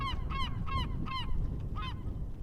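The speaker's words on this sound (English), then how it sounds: "The herring gull resting on the dock there." A herring gull calls from a dock on the eastern Long Island shore, giving four quick strained, honking cries in a row and then one more after a short pause, clear over steady outdoor background noise.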